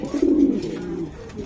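A racing pigeon gives a single low, throaty coo up close, a brief warbling call that fades into quiet.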